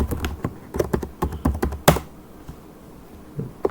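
Password keys tapped on a computer keyboard, a quick run of close, crisp clicks with a short pause, then a last lone tap, no voices.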